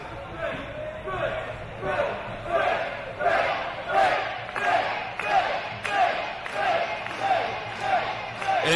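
Wrestling crowd cheering for Chris Bey at an FSW MECCA VII match, a loud, dense roar with rhythmic chant-like surges repeating about every second, and an announcer talking over it.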